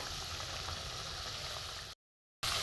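Spice paste sizzles and bubbles steadily in a pan for a mixed vegetable dalna. The sound is close and even, with one brief dropout to silence before it resumes.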